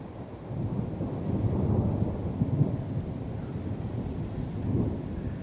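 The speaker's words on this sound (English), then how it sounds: "this is what a spring storm in southern Illinois looks like" Low rumbling thunder rolls steadily through a spring storm in southern Illinois, a broad continuous roar with a few swelling peaks, heard outdoors with no talking.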